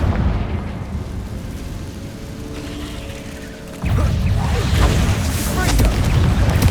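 A Confringo fire-blast spell in Hogwarts Legacy, with continuous crackling and rumbling effects that swell into a heavier, louder burst of booming explosions partway through and keep roaring to the end.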